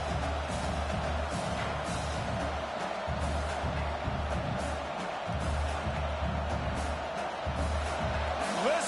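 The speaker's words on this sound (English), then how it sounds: "Listen to this crowd just shaking the girders of this place, trying to help their defense." Stadium crowd at a Michigan vs Oregon football game roaring steadily, a dense distant wall of cheering under a commentator's voice, with rhythmic low stomping pulses.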